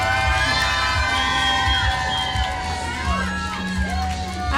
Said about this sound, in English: Turn around one more time to this crowd.